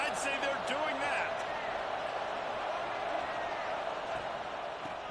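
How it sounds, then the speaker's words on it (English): A packed football stadium crowd at a Big Ten college game against UCLA gives off a steady, dense roar that holds loud and even throughout, with a voice talking over it. "This crowd bringing the energy and noise early."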